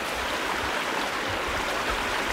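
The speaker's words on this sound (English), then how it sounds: "And here's a creek, goes right across the trail." A mountain creek flows across a trail, a steady broadband rush of water that stays even and fairly close throughout, with no voices.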